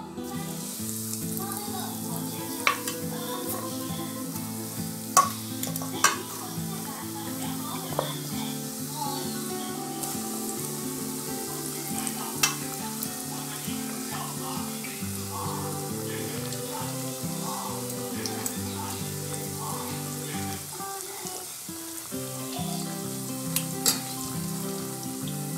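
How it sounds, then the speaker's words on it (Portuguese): Potatoes frying in hot oil deep enough to cover them, a steady close sizzle and bubbling that runs throughout with occasional sharper pops, no talking. "Agora eu vou fritar as batatas."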